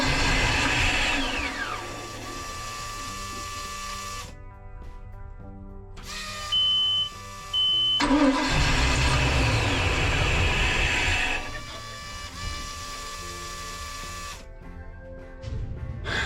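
A Volvo Penta electric fuel pump with a failing high-pressure side runs with a loud, steady mechanical whine and drone, cutting out and restarting several times over the stretch.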